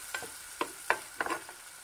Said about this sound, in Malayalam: ഇത് നന്നായിട്ടൊന്ന് ഇളക്കിയിട്ട് ഒന്ന് അടച്ച് വെച്ച് വേവിക്കാം.